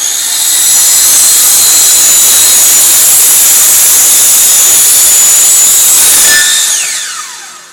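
A circular saw rips through wooden rafter stock at close range, a loud sustained whine for about six seconds that drops off as the blade spins down.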